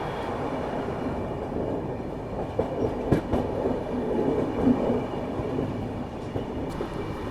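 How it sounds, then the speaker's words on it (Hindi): Ahmedabad-Gorakhpur Express at Godhra junction railway station, a steady rumble of railcars rolling along the track with faint clatter throughout, fairly close and continuous, no talking. "इसीलिए ये एक जंक्शन रेलवे स्टेशन है"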